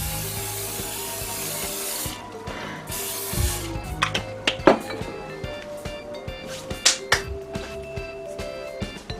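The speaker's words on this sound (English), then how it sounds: "make sure you spray this" Two bursts of non-stick cooking spray hiss loudly onto a metal muffin tin, followed by light clicks and taps of handling the tin.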